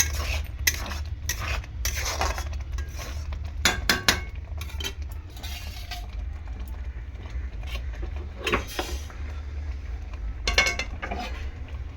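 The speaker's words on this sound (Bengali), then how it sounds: "জল দিয়ে কড়াইটা একটু ভালো করে ধুয়ে নিলাম" A wok being rinsed out with water after cooking mung dal with a large fish head, giving scattered metallic clinks and scrapes over a steady low rumble, with several louder clatters standing out.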